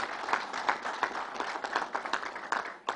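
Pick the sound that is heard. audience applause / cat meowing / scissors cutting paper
audience applause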